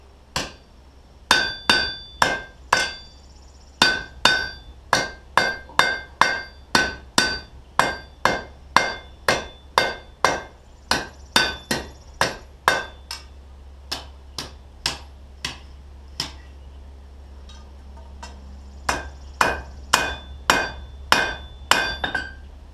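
Repeated hammer blows on hot metal over an anvil while forging a trammel hook, dozens of sharp ringing strikes in steady bursts with brief pauses, close and loud.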